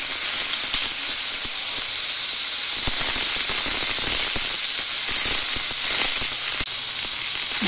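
Loud continuous sizzling as chopped beans and wet potatoes hit a hot tempering in a pan for a potato-bean subji, a steady hiss with crackling spits throughout.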